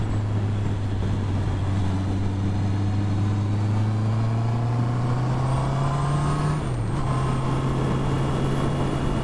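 A test motorcycle, still being broken in, cruises steadily along a country road, its engine droning in a smooth sustained tone with a brief dip in pitch near the end, close and loud over wind noise.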